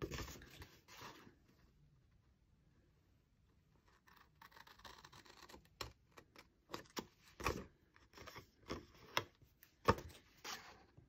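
Scissors snip V-shaped notches into paper for a bluebird pop-up box craft, a soft rustle first, then a run of close, crisp separate cuts growing louder toward the end, with no talk.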